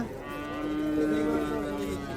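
A local-breed cow lets out a long, drawn-out moo close by at a livestock market, with faint background murmur.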